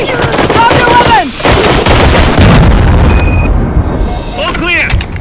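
Gunfire in RoboCop: Rogue City, heavy loud bursts of shots and booming impacts throughout, with shouted voices cutting in over the firefight.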